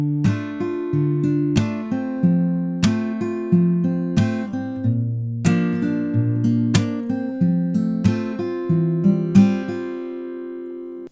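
Steady fingerpicked acoustic guitar playing the first line of a song, with bass notes and ringing plucks in a rolling pattern, close and clear with no voices.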